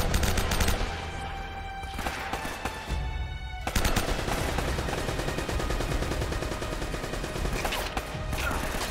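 Rapid gunfire from a newly picked-up gun in the game Uncharted: Drake's Fortune, dense bursts of shots running almost continuously and loud, with a brief lull before the firing resumes.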